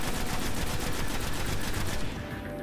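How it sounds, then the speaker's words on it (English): Sustained automatic gunfire from the Sekrion, Nexus Mind boss in a Destiny Venus strike, a dense rapid rattle of shots that stays loud and constant before dropping off near the end. "he's now shooting at you"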